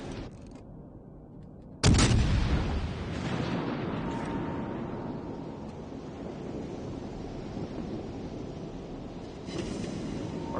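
Naval artillery fire in the World of Warships Legends video game: a sudden heavy boom lands about two seconds in, then a long rumbling roar and wash that sustains and swells again near the end.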